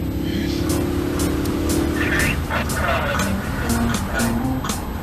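Volkswagen car engine revving hard and close, a sustained loud mechanical roar with rising pitch, tire-like squeals and rattles over it.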